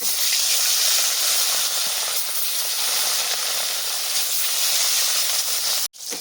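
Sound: rohu fish frying in oil

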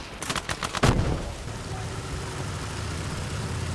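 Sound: gunfire at a BT tank in video game Gates of Hell

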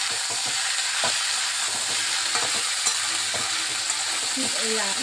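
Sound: stirring red chusa and salt in a frying pan

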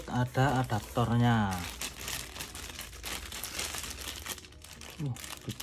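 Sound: crinkling plastic wrapping being opened

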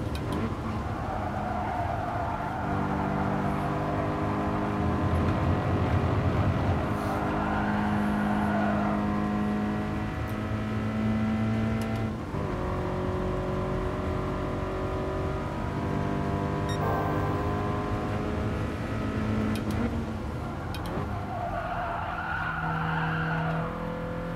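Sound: Toyota 86 race car engine in video game GT Sport

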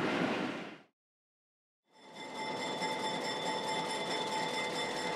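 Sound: White Pass & Yukon train leaving the siding

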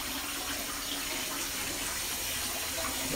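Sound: washing a cooking pot (nabe) with water

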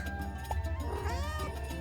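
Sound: cartoon cat meowing

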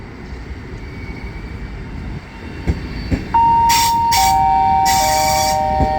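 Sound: Pendolino ED250 train at station platform

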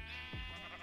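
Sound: sheep bleating in Minecraft video game

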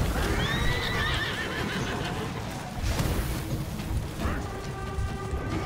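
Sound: horse neighing and galloping, from video game For Honor

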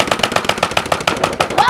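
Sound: BoomCo Rapid Madness toy dart blaster firing

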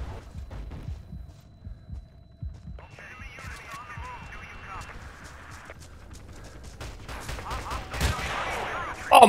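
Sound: artillery fire in a video game

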